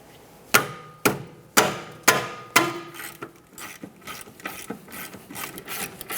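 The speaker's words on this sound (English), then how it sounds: "We'll loosen the top bolt, leave it in just a couple threads, and then fully remove the other bolt" A ratchet breaks loose the 17mm caliper bracket bolts on a Toyota Sienna's rear brake, five sharp, evenly spaced cracks up close, then a quicker, softer run of ratchet clicks as the bolt spins out, with no talking.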